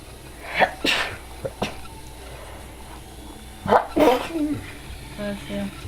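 A person sneezes twice in quick succession, close by, while 3-week-old puppies are being cleaned up after their first messy meal; small whimpers and a voice are heard around it.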